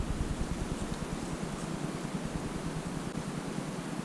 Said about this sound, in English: the wind's got up now as well